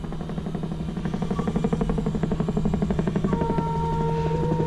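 A Yak-50's radial piston aircraft engine sputters and chugs on starting, its rhythmic pulsing firming up into a steadier rumble as it catches and runs.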